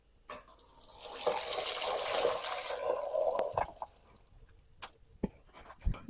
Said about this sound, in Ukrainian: і перекидає капусту на друшлак